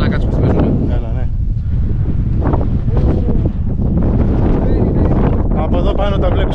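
Strong wind buffets the microphone on a hilltop castle on the Greek island of Milos, a loud, constant roar with gusts throughout, while people talk over it.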